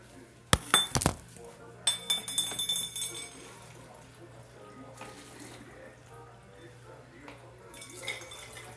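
Glass clinks and rattles in a home kitchen while someone gets water, with a couple of bright clinks at the start, then softer clatter and running water, and faint voices in the background.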